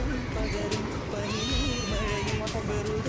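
An angry cat meows in sharp, drawn-out wails, close and loud, while people talk over it.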